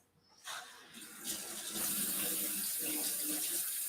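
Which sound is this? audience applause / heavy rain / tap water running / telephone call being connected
tap water running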